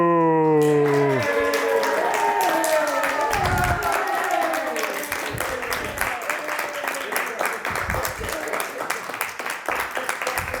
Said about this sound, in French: veuillez applaudir très fort le seul,